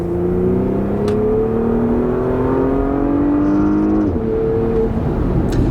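A Porsche Panamera 4S with a 2.9 liter twin-turbo V6 rises steadily in pitch under load, then drops sharply at an upshift near the end, loud and close with no talk over it.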